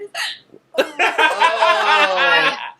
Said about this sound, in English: My hiccups are so bad.